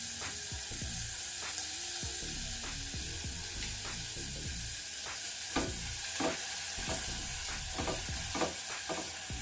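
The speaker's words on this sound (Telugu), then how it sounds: "వీటిని కొంచెం కలర్ వచ్చే వరకు ఇలా వేయించుకోవాలి." Chopped green chillies and onions fry in a pan for ragi soup, a steady close sizzle with repeated sharp scrapes and stirring knocks of a utensil throughout, no voices.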